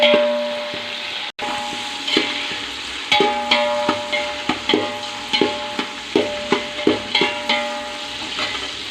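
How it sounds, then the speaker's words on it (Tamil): Tomato and onion sauté in a pan while a spoon strikes and scrapes the metal in a steady, repeated rhythm over a low background sizzle, close and clear. "இந்த தக்காளி வெங்காயம் நல்லா வதங்கட்டும்."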